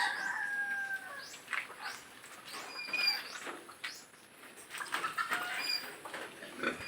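A rooster crows in the distance amid scattered farmyard clucking, faint and somewhat busy, with no talking.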